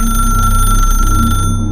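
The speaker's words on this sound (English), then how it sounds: "but yet it rang, like an old-fashioned bell" An old-fashioned telephone bell rings loudly and continuously, a steady metallic trill with a fast rattling pulse that holds without a pause and cuts its upper ring near the end.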